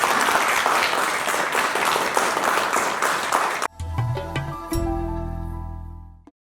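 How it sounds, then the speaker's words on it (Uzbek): Warm audience applause congratulates a teacher on his 70th birthday at a Navoi poetry evening, steady dense clapping for several seconds before cutting off abruptly into a quieter tail of tones that fades out. "Abdulatifjon Turdaliyev domlamizni 70 yoshlar bilan guldiroz qarsaklar bilan tabriklasak"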